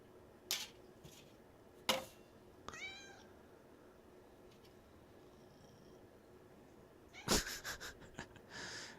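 Cat meowing in the Xbox game Wanted: Dead, a few short mewls and a rising wheezy call spread across quiet background, with a louder burst of sounds near the end; no talking.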